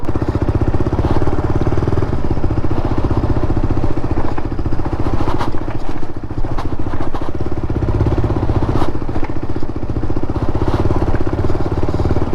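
KTM RC 390 motorcycle engine droning loudly and steadily while riding on the road from Delhi to Mussoorie, with wind buffeting and no talking.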